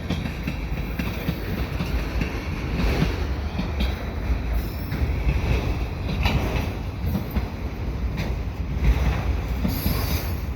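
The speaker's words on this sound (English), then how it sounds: "I have a westbound CN freight, and it is coming at the best time possible with the CP as well" A CN freight train passes close by with a loud, continuous rumble of wheels, rhythmic clatter and occasional squealing, and there is no talking.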